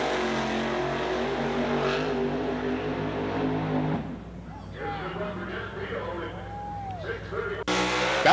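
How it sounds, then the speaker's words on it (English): An Oldsmobile Cutlass drag car makes a solo quarter-mile run, its loud engine roaring steadily before fading into a lower distant drone, under continuous commentary. "Here's another look at the gorgeous Oldsmobile Cutlass of the Idaho Kid, Jett Field."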